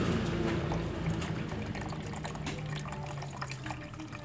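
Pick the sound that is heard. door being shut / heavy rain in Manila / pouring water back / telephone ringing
pouring water back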